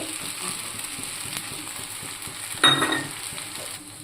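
Chirer polao (flattened rice) with nuts being stirred in a frying pan, giving a steady close sizzle with soft scraping and a louder burst of frying toward the end.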